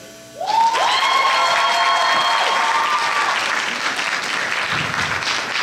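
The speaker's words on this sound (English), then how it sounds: "Round of applause for contestant number one, ladies and gentlemen." A crowd applauds contestant number one at a university pageant, loud continuous clapping starting suddenly, with brief tonal sounds like a held note or whistle early on, then steady applause to the end.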